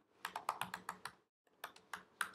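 Someone types a password on a computer keyboard: two quick bursts of close, crisp keystrokes separated by a short pause, with no voices.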